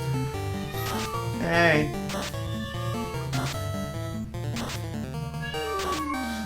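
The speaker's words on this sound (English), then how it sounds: "There's my cat." A pet cat meows near a game soundtrack, one rising meow standing out over steady music while someone speaks briefly.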